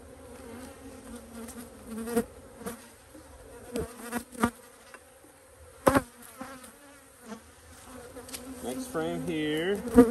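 Honey bees buzz steadily and close during a hive inspection of a brood frame with drone brood and sugar syrup, with a few louder passes as individual bees fly near.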